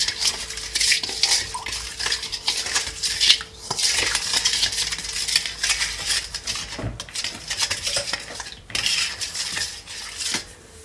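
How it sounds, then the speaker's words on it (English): A utensil stirs jerk seasoning into a chicken marinade in a bowl, giving busy, uneven clinking and scraping against the dish for several seconds, close and fairly loud. "And you just wanna mix it all together."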